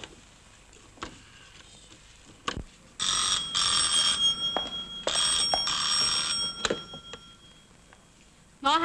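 A telephone bell in a 1960s Hong Kong Cantonese film rings in two long bursts of rapid, bright trilling, separated by a short pause, with quiet room tone and faint clicks around them.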